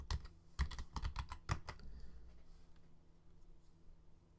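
Fingers type on a computer keyboard in quick bursts of crisp clicks for under two seconds, then fall quiet. The typing is close and fairly soft, and no one speaks.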